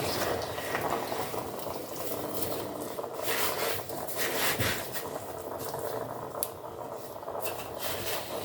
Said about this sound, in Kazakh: Міне біздің вареньямыз қайнап жатыр, бетіне осындай көбіктер шығады.